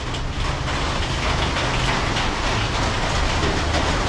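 Steady rain falls on a town street in Kota Bharu, Kelantan, Malaysia, a dense, even hiss of drops on hard surfaces that carries unbroken for the whole stretch, with no voices over it.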